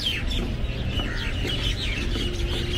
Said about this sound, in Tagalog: Malalakas ang huni ng mga ibon.